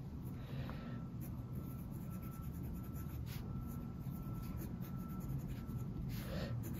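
A Lamy Safari fountain pen with an F nib scratches softly across paper in quiet, continuous strokes under a faint, steady background hiss.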